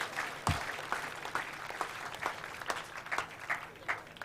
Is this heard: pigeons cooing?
no